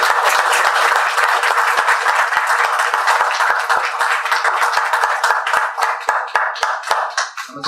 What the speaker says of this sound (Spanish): Por favor, un aplauso para el equipo que ha participado.